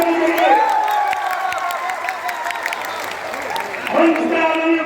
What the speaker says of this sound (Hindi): एक बार जोरदार ताली होनी चाहिए हमारी नीलम सोनकर जी के लिए